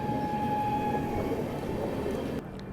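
A train rolls into Patliputra Junction railway station in Bihar with a steady, loud rail rumble and faint tonal whines. The noise drops slightly near the end as it slows.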